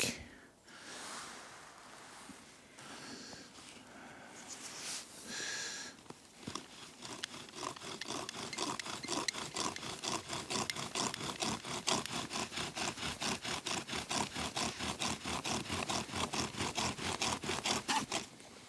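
A wooden spindle is spun with a bow in a three-stick friction fire set, giving a long, steady run of quick rhythmic rubbing and scraping strokes at a moderate level with no voices over it.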